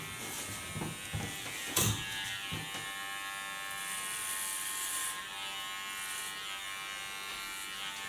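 An electric hair clipper set to 4 millimetres cuts hair in a clipper-cut, giving a steady close buzz with a few brief bumps and rasps near the start.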